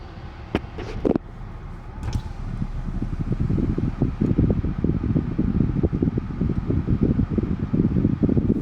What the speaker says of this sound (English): we have the AC system on